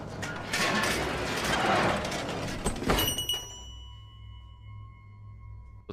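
A small bell tied to a body in a morgue in the 2016 horror film The Autopsy of Jane Doe gives one clear ting after some shuffling and clattering, then rings out softly in near silence.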